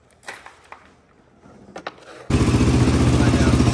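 A Honda 400EX engine swapped into a Polaris RZR 170 cranks and fires up after a few quiet clanks, settling into a loud, steady, close idle that carries to the end.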